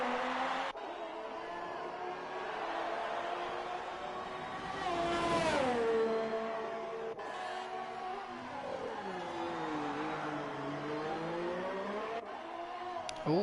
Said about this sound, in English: here we can see Dutch leaving the pit stop, returning to the 5th place on the circuit